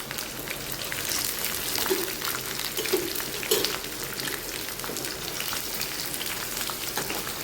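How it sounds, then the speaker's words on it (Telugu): Ivy gourd pieces fry in hot oil for a masala curry, giving a continuous, fairly soft crackling sizzle like light rain, with a few faint pan knocks and no talking. "తర్వాత దొండకాయ ముక్కలు అయితే వేస్తాను"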